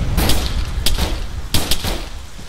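Rapid sharp gunfire bursts and thuds in ARMA 3, a military shooter game, four or five crisp reports close together over a couple of seconds, loud and near, with no talk.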